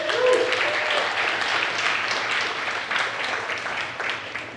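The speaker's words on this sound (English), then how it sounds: "So let's give a huge round of applause to Kate Nicholson for doing all of these amazing slides" A room of attendees at a civic tech meetup talk gives a round of applause, steady and fairly loud at first, then easing slightly as the clapping continues for several seconds.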